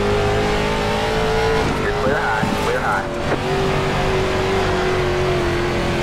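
A dirt late model race car engine roars steadily and close in the iRacing Dirt simulator at Charlotte, with a sustained high drone, brief pitch changes and faint tire scrubbing midway.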